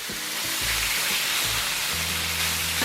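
Beef sizzles loudly and steadily on a Blackstone griddle for a ho chow fun stir-fry, a dense, continuous hiss close by with low tonal hums beneath and no talking.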